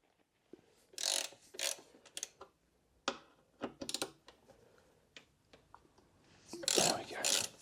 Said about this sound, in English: I'm just going to loosen the caliper from its mounts